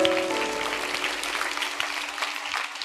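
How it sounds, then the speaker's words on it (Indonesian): A church congregation breaks into continuous, dense clapping that carries on without pause at an even, lively level. "Beri tepuk tangan untuk Tuhan Yesus."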